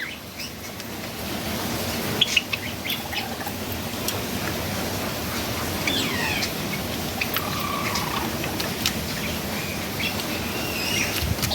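Pet birds chirp and flutter in a cage while eating fresh greens and soft food, with a scatter of high, brief calls over a steady busy background of rustling and wingbeats.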